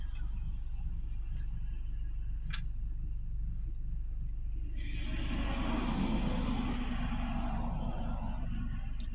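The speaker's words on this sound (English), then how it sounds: "this is a lot of traffic" Road traffic heard from inside a moving car, a steady low engine and tyre rumble throughout, with a louder passing wash of noise swelling in the middle before fading.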